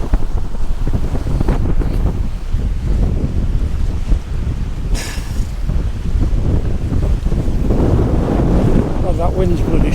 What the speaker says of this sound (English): That wind's bloody strong.